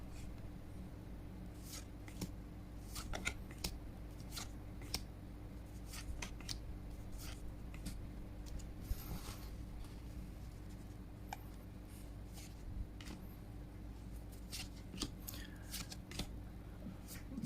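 Magic the Gathering cards from a Battle for Baldur's Gate Commander deck being handled, a quiet stream of close, soft flicks, slides and taps of card stock at an irregular pace over low room hum.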